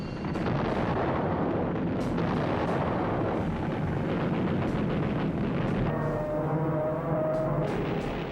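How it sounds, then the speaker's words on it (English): Heavy rumbling blast and booming noise from WW2 archival footage of a bomb striking the aircraft carrier Yorktown, a dense continuous roar with repeated sharp bursts and low sustained tones, loud and unbroken for several seconds. "But then she took a bomb which penetrated 4 decks before exploding."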